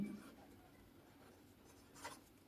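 Handwriting with a pen on paper during a Hindi grammar lesson: faint, soft scratchy strokes over quiet room tone, with a brief louder scrape near the end.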